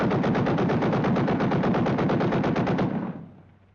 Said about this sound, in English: gunnery practice.